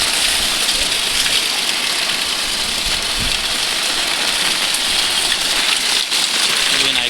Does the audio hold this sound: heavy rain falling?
yes